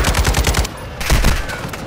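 Loud, close machine-gun fire in Call of Duty MW2 Warzone, a quick rattling burst, a short gap, then another run of rapid shots.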